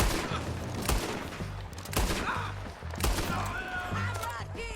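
Gunfire in Red Dead Redemption 2: repeated sharp shots and bursts at roughly one-second intervals, loud and close, over a busy game soundscape with scattered rattling effects.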